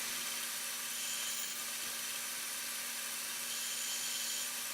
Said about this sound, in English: I'm drilling it out a little bit undersized